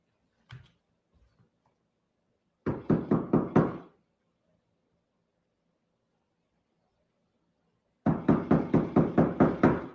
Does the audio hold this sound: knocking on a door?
yes